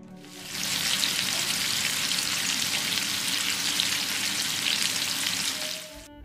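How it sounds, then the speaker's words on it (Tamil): Seela fish frying in a pan until crisp, a loud, dense, even sizzle that swells in, holds steady for several seconds and then cuts off sharply. "இப்போ மீன் பார்த்திங்கன்னா நல்லா ஃப்ரை ஆகி மொறு மொறுண்டு ரெடி ஆகிடுச்சு"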